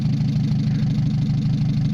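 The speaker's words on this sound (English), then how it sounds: "That doesn't sound like a good running engine." A Mazda 626 engine, just after cylinder head reassembly, idles roughly with a steady low rumble and a slightly uneven, lumpy pulse, close and continuous throughout.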